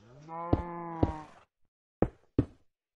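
A video-game cow moos in a long, tonal low call, followed by a few sharp knocking thuds, with near-silence between them in the game world.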